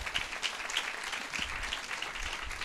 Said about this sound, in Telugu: చప్పట్లు కొట్టి దేవునికి స్తోత్రం చెల్లిద్దాం.